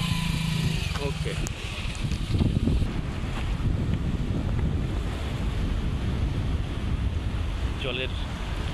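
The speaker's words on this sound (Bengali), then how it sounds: "জলের শব্দ, পানির শব্দটা আসলে সাউন্ডটা অনেক ভালো লাগে" Sea waves wash steadily along the coast near the Bangladesh–Myanmar border, a continuous roaring surf with heavy wind buffeting the microphone and a faint boat-like hum.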